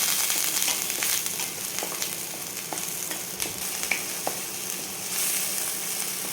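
Half of a freshly roasted spice masala frying in oil for a dry mutton curry, with a steady sizzle, occasional stirring scrapes and small pops in a close kitchen pan.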